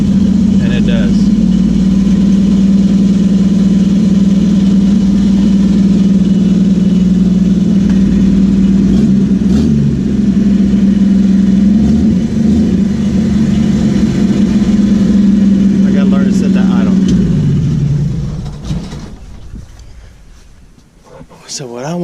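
A Willys truck engine runs steadily while driving a shaft-driven winch, a loud, close, low mechanical drone with a strong hum that holds even, then winds down and cuts off near the end.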